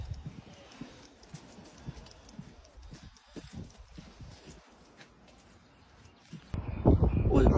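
Horses walk out of a stable on a windy, sunny morning, hooves clip-clopping faintly in an irregular rhythm, before a sudden louder rush of wind or movement near the end.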